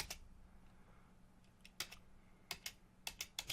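Computer keyboard keys pressed at a terminal while setting up a Node.js project, a few soft isolated taps followed by a quicker burst of sharp key clicks, close and fairly quiet with no talking.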